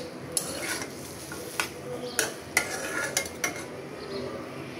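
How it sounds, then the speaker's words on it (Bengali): Papaya and prawn curry is stirred in a pan, several distinct clinks and scrapes of a spoon against metal over a low simmering sizzle, spaced irregularly and moderately close. "এখন পেঁপেটা দিয়ে একটু নেড়ে চেড়ে দিলাম আমি।"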